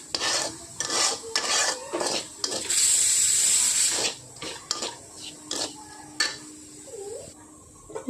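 Grated coconut and semolina cook in oil in a kadai, with a spatula scraping and stirring in repeated rasping strokes over a soft sizzle, including one longer continuous hiss midway, and no talk.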